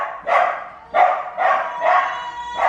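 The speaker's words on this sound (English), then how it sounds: "The dog's barking, which caused the baby to cry." A dog barks loudly and close by indoors, about five sharp barks in an uneven rhythm, with no talking over them.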